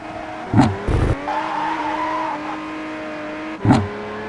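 A race car in the Assoluto Racing video game: an engine drone runs throughout, with short bursts of tire squeal and skidding near the start and again toward the end.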